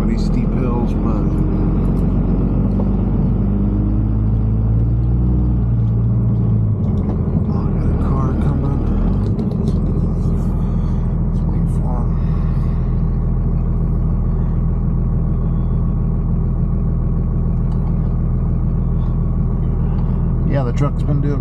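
A pickup truck engine pulling an equipment trailer loaded with a D2 Caterpillar dozer up steep hills, producing a loud, constant low rumble and road drone under someone talking throughout.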